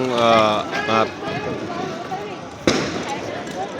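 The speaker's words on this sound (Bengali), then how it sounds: "আপনারা শুনতে পাচ্ছেন চতুর্দিকে আওয়াজ হচ্ছে প্রচুর পরিমাণে আওয়াজ হচ্ছে" New Year fireworks and firecrackers going off around a neighbourhood, one sharp bang standing out among scattered pops and rumbles, heard beneath someone talking close to the microphone.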